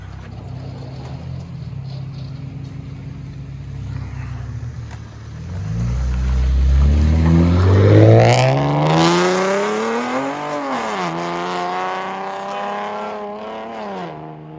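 A 2014 Chevy Camaro V6 with true dual straight pipe exhaust idles low, then revs hard, rising to a loud, raspy peak and settling back in a second sweep, close by and without talk.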